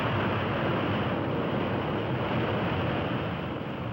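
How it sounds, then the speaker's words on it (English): Airliner propellers roaring loudly in reverse pitch to brake the plane after landing, a steady, dense, unbroken rush that stays close and constant throughout. "The captain will reverse the pitch of the propellers and push the air forward and just stop the plane."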